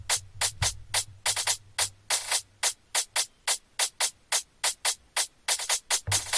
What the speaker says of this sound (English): that's a counter snare loop, but just with a like little bit extra sauce